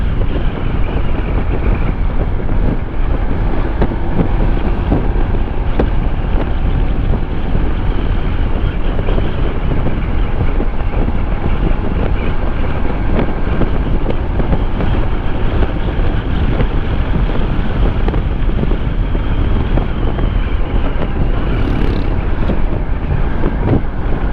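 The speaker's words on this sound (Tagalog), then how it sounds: "Lakas ng hangin." Strong wind roars and buffets the microphone continuously, a dense, loud rush with no pauses, like gusts on open water.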